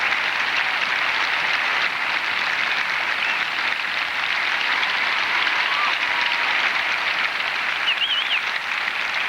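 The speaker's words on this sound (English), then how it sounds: "And a standing ovation from the crowd" A figure skating crowd gives a standing ovation after a professional pairs program, a dense, steady roar of clapping that fills the whole stretch at constant loudness, with no voices rising above it.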